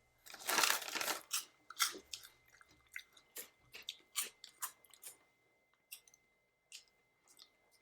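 Close, crisp crunching of a crispy fried snack with an onion ring flavor, loud bites at first followed by irregular chewing crunches that grow sparser and fainter, with no talking.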